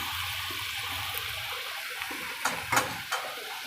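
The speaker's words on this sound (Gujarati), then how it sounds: "થોડુંક પાણી નાખીશું એટલું પાણી ઉકળી જાય પછી આપણે ખીચડી નાખી દઈશું" Water pours from a vessel into a cooking pot for onion khichdi, a steady watery hiss with a few louder splashes near the end.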